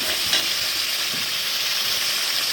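Spice masala sizzles steadily in a pan for a soybean and potato curry, a dense, even frying hiss that is close and loud throughout, with faint stirring scrapes underneath and no voices.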